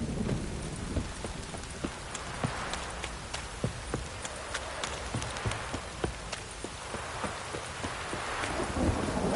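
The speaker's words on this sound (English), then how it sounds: "This downpour's a bastard" Heavy rain in The Witcher 3: Wild Hunt (PS5) pours down steadily with scattered sharper drops and splashes, a constant wash of noise.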